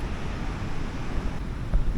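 Steady wind blustering across the microphone on a wet night on Fraser Island, a broad rumbling rush with low gusts swelling near the end.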